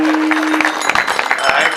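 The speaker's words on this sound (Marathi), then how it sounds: "टाळ्या वाजवा" An audience at a kirtan in Sangola claps together, a brief burst of crowd applause with quick overlapping hand claps, fairly loud and close.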